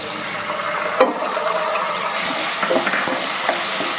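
Ground cumin, ginger and chilli pastes frying in a pan over partly cooked food, a loud continuous sizzle close by with occasional spits and a sharp clink near the start.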